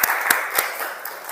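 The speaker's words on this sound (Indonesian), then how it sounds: "Tepuk tangan." Short burst of classroom applause: a few distinct claps over a soft, continuous patter from students, brief and fairly close.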